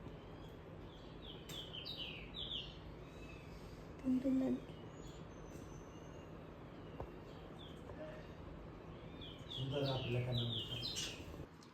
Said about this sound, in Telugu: బౌల్లో నీళ్ళు కొన్ని బియ్యం గింజలు వేయండి మీకు దగ్గరలో పిచ్చుకలు వస్తూ ఉంటాయి